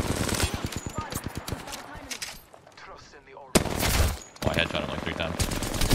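Rapid gunfire from a weapon in Apex Legends, bursts of loud close shots in quick rhythm, a brief lull, then another heavy volley near the end.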